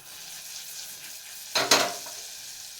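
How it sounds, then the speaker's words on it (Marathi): A brief burst of sizzling as a block of butter hits a hot pressure cooker, crackling loudly for a moment then fading back to quiet. "कुकर चांगला गरम झाला की इथं मी एक बटरची वडी घेतली आहे ती वडी घालणार आहे"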